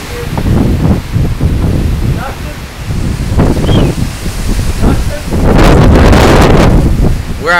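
Hurricane Ike's winds roar and buffet the microphone in loud, gusty waves that swell to a heavy peak near the end, with voices breaking through now and then.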